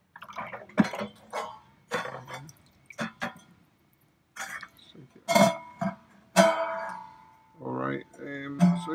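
A cymbal is dug out of a bucket of Diet Coke, giving wet drips, sloshes and metallic scrapes in uneven bursts, close up, with brief speech mixed in.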